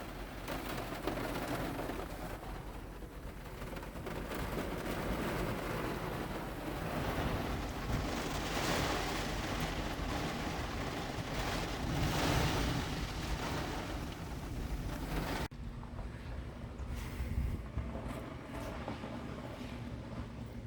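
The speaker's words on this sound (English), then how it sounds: "Got another rainstorm." A steady rainstorm roars across the whole stretch, a dense broadband wash with some wind buffeting and low rumbles, continuous and fairly loud with no voices.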